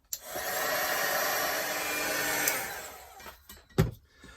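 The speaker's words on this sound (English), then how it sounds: "I'm going to use my heat gun to dry it off because I'm impatient today." A heat gun blows steadily to dry paint on a flat mixed-media canvas, a continuous close airy roar for a few seconds that cuts off, followed by a few small knocks and handling sounds.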